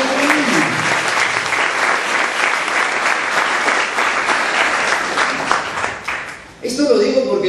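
A church congregation applauds during a sermon, loud dense clapping sustained for several seconds before fading, then a voice comes in right after.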